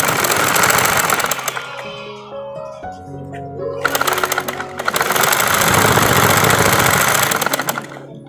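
Sewing machine stitching fabric for a hair scrunchie, a loud, close mechanical whir that slows and pauses midway, then runs steadily again.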